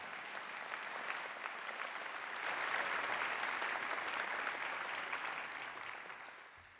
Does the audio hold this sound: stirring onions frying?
no